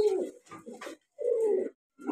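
Fancy pigeons, a modern breed hen among them, coo in short throaty bursts, two or three phrases with brief gaps, close and fairly soft.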